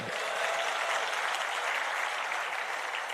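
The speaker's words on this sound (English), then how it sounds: "If you agree with that, you can, I think, loudly applaud." Audience applause at a Nitte engineers' global reunion in Kochi's Chakolas Pavilion, a steady, dense wash of clapping from a large crowd that holds evenly loud for several seconds without speech.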